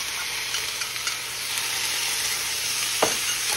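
Sauerkraut sizzles in a hot skillet, a steady close frying hiss with faint stirring scrapes and a brief clatter near the end, with no talking.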